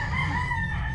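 A backyard rooster crows in a short, bright burst, heard at middle distance over a low background hum.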